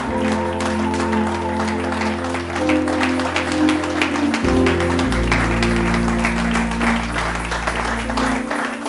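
Applause from a church congregation during a French-language worship service, a dense steady wash of many hands clapping over a low sustained organ or keyboard drone, with faint cheering mixed in.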